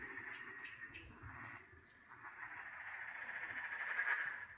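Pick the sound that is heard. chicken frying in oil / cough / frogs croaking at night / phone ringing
frogs croaking at night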